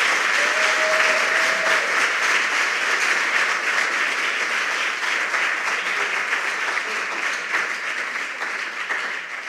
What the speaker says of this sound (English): A very round of applause to all our contestants.